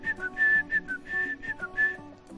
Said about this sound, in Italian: Si fischietta poi un semplice motivetto anche inventato.